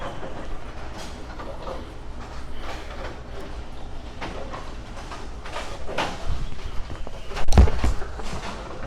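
A bowling ball is thrown and rolls down the lane in an alley, a steady rumbling roll that builds toward a louder clatter near the end, with no talk over it.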